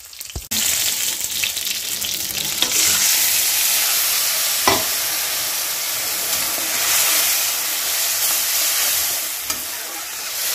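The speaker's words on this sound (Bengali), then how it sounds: "এইদিকে পটল মোটামুটি ভাজা হয়ে গেছে, তার সঙ্গে আমি মশলা দিয়ে দিব" Pointed gourd (potol) and spices frying in a pan, a steady close hiss and sizzle running throughout with a few scraping stirs and brief clinks of a utensil.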